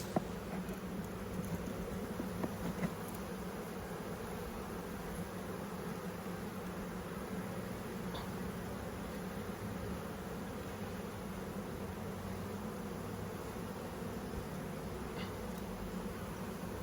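Honey bees buzz in a dense, constant drone around an open beehive, a steady swarm hum close by with no talking.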